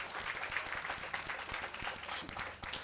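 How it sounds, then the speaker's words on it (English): Soft, distant applause from an audience at a community meeting on environmental justice, a dense patter of clapping that holds steady for a few seconds. "she deserves a round of applause."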